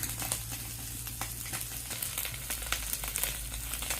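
Small mola fish fry in a pan with an even, crackling sizzle, spotted with faint pops and light stirring clicks, close and steady, with no talking.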